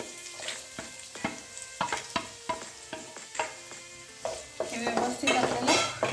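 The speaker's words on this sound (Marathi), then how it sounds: "आता मोहरी तडतडलेली आहे याच्यामध्ये मी कढीपत्ता घालते आणि एक मोठा बारीक चिरलेला कांदा इथे मी ॲड करते" Curry leaves and finely chopped onion hit hot oil where mustard seeds have already spluttered, for a red pumpkin bhaji. The result is a close crackling sizzle broken by sharp spatula taps and scrapes that build into a louder frying hiss.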